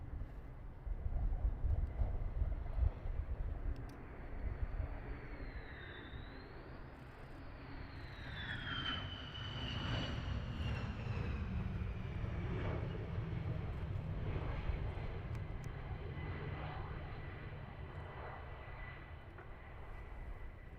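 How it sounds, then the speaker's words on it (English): F-15 jet engines whine and rumble at RAF Lakenheath as the fighter comes in to land, a sustained, fairly distant roar with a rising and falling high-pitched engine tone sliding above it. "I do like going silent for you so you can listen to the engines."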